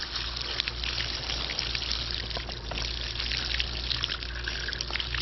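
Water from a hose or tap rinsing out the filter of an automatic three-motor pool cleaner, a steady close splashing trickle and spray continuing without a break.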